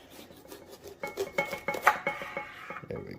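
A knife cutting the core out of bell peppers for ground beef stuffed peppers, a quiet series of close scraping and slicing strokes with small rhythmic crunches and rasps, growing busier midway.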